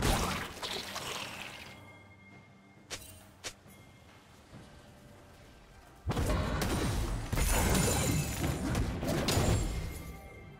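A turret collapses in a League of Legends match, a sudden loud crashing burst that breaks in abruptly and rolls on as a dense, sustained roar over quieter game ambience with a couple of brief clicks before it.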